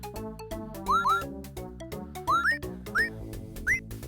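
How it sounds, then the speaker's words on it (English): Repeated rising whistle calls in the DOS game Gobliins 2, short upward-swooping tones in pairs over a bouncy tuneful backing with plopping accents, loud and close with no talk. "Stop whistling north and south."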